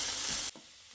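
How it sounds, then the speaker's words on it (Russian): Onion and carrot sizzle in a frying pan, a loud steady hiss for half a second that cuts off abruptly to a faint low background. "добавляем морковь. С морковью тушим примерно минуты 2-3."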